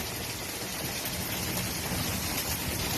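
A hail storm in Fort McMurray pours down as a dense, steady hiss and patter of falling ice, loud and continuous with no voices.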